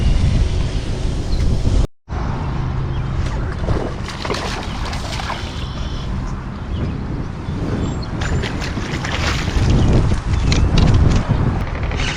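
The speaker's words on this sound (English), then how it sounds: "The wind just pushes you into one side." Wind blows across the Muskegon River in a steady, gusty roar that buffets the microphone, with faint water and boat noise underneath and a brief dropout near the start.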